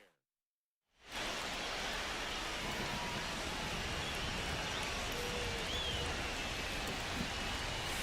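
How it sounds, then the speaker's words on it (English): Rain falls on a baseball stadium in the video game MLB The Show 25: after a second of silence, a steady, even hiss of rainfall continues without a break. "This rain is not letting up."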